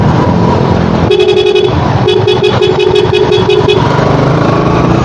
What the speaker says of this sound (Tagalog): ang busina, lakas.